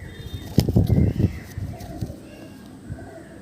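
Desi and Madras pigeons in a loft give a few low throaty coos, with faint wing flutters and brief human voices in the background.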